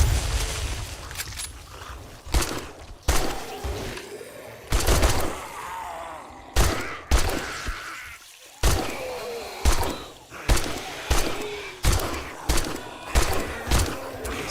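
Shotgun blasts in 7 Days to Die boom one after another in a rapid irregular string, loud sharp reports with short gaps between them, under intermittent talk.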